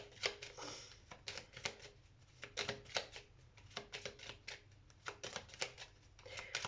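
Playing cards are handled and shuffled during a card reading, with soft, crisp flicks and taps in quick irregular bursts, close but faint.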